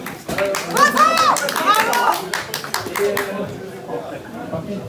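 A crowd at a close-fought three-round combat sports bout, including fans who came from Corsica, gives dense, sustained applause that thins toward the end, with voices calling out over the clapping.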